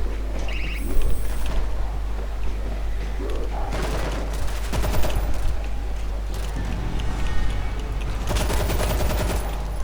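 Rapid gunfire rattles through a World War Z zombie game in a desert setting, bursts of automatic fire coming in waves over a low steady rumble, with no clear talking.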